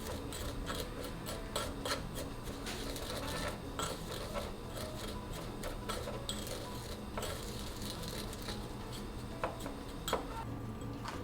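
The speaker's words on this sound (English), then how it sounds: "Grinding the seeds brings out their aroma." Sesame seeds ground in a spice grinder while preparing green beans for a Japanese chicken meatball meal, a steady close rubbing, rasping grind that continues without a break and with no talking.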